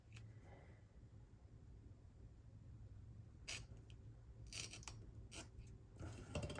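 Scissors snip through a paper budget planner insert with a few quiet, close cuts clustered toward the end, preceded by faint rustling and handling noise.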